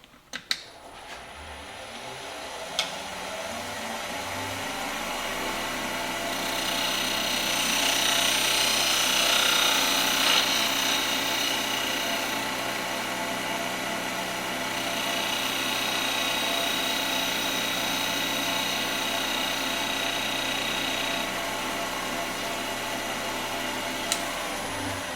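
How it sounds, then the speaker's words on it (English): Wood lathe spinning a turned piece, shaped into a 30mm round, while a spindle gouge cuts a small chamfer on its edge; a steady motor hum with a hissing cutting noise that swells and fades, alone without talk. "Now I'll come back with my spindle gouge and just put a small chamfer right on this edge here."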